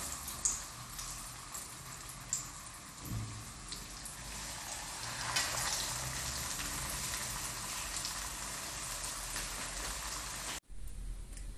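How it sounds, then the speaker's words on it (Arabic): Flour-dredged fish laid into hot oil, giving a steady broadband sizzle with small crackling pops throughout, close and fairly loud, cutting off abruptly near the end. "مباشره غادي نحطو في الزيت اللي خليتها كتسخن"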